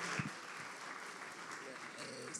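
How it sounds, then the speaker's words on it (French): Audience at an Usine Extra event in Marseille applauding speaker Stéphanie Panayotis of ITER, a soft, distant, continuous wash of clapping, quiet throughout with a brief voice near the start. "Merci beaucoup Stéphanie, on peut l'applaudir"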